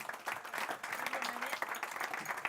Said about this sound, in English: Give Kate a warm round of applause.